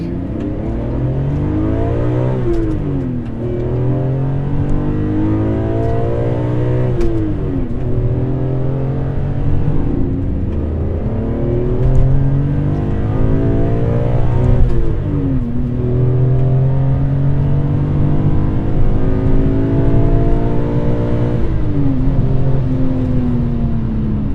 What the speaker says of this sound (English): This engine sounds fantastic.